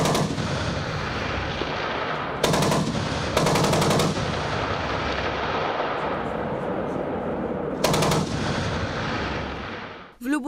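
Bursts of rapid machine gun fire during a military live-fire exercise with artillery and aviation units, three sharp rattling volleys standing out over a continuous rumble of outdoor noise and distant firing.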